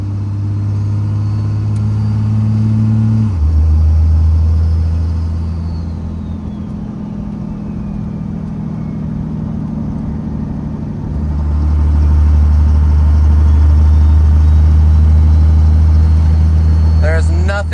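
A second-generation truck engine runs under load through a 48RE transmission, its steady low drone dropping in pitch as the torque converter locks up, then surging back louder later; someone speaks over it.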